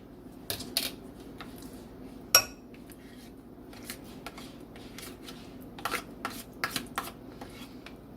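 A spoon scrapes and clinks in a bowl as diced onion is stirred into a taco dip with sour cream, producing soft intermittent taps and one sharper knock, close up and without talk.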